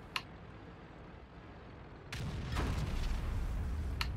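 A tank cannon fires in the World of Tanks-style game on the Mountain Pass map, heard as a sharp distant report followed by a sustained rumbling boom and trailing crackle.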